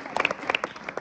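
Brief burst of audience clapping at a school event honouring a village sarpanch, a scattered, irregular patter of hands lasting about a second.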